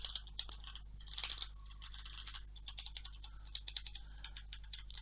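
Fast typing on a Reidea mechanical gaming keyboard with red switches, a quiet, close stream of light clacking keystrokes in irregular bursts over a low steady hum.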